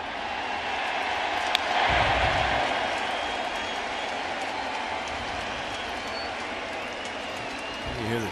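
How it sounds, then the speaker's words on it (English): A baseball crowd roars after a home run by Goodrum in a Detroit Tigers versus New York Yankees game, a broad, distant swell that rises and then slowly fades beneath steady commentary. "You hear the cheering out in left or right field."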